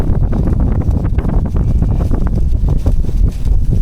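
Strong wind by a river buffets the microphone in loud, rough gusts, a constant low roaring rumble with irregular thumps.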